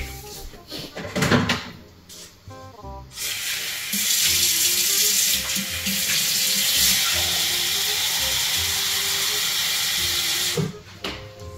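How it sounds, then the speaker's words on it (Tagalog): Tap water running from a kitchen faucet into a pot, a close steady rushing hiss lasting several seconds, with brief handling clatter before and after. "lagyan natin tubig"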